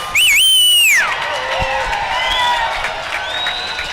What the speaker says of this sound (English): I want us cheering so loud the bleachers are shaking.